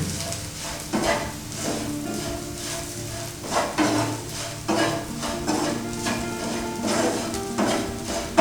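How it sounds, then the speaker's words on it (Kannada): Okra fry with roasted gram powder, made without onion or garlic, stirred in a pan over sizzling heat: a steady frying hiss with repeated scraping strokes of a spoon against the pan, close and alone. "ಈ ಥರ ಹುರ್ಗಡ್ಲೆ ಪೌಡ್ರ್ ಹಾಕಿದ ತಕ್ಷಣ ಇದನ್ನು ಕೂಡ ನೀಟಾಗಿ ಮಿಕ್ಸ್ ಮಾಡ್ಕೊಳ್ಳಿ ಒಂದು ಸರ್ತಿ"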